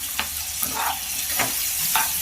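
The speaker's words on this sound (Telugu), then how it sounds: "ఇలా ఫ్రై చేస్తున్నప్పుడే ముందుగా ఉడకబెట్టుకున్నటువంటి గ్రీన్ బఠానీ ఇందులోకి వేసుకోవాలి" Boiled green peas frying and being stirred in a pan for vangi bath, with a steady sizzle broken by four regular scraping strokes of a spatula, close and moderately loud.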